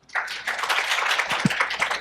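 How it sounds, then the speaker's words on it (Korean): An audience at an AI technology conference claps to welcome a speaker to the stage, a brief burst of moderate applause that starts abruptly and continues evenly for about two seconds. "큰 박수로 모시겠습니다"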